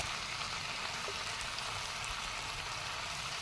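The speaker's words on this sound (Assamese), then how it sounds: "এতিয়া বিলাহীখিনি ইয়াতে দি লৈছোঁ এতিয়া ভালকৈ লৰাই ভাজি ল'ম" Tomatoes stir-fried with local chicken and taro flower sizzle steadily in a pan, a continuous dense hiss with no breaks and no talking.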